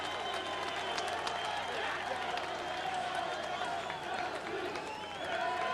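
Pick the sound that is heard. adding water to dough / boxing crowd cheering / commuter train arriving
boxing crowd cheering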